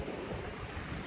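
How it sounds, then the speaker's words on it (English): Sea swell and waves wash onto the shingle at Budleigh Salterton beach during a fishing outing, a steady, loud, close roar of surf with wind buffeting the microphone and no voices. "All you can hear is the swell and the waves."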